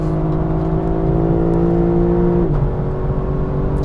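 A 2024 Lexus LC 500's 477-horsepower V8 engine roars steadily at high revs, its tone dropping briefly at a gear shift before climbing again; loud and close, no voices.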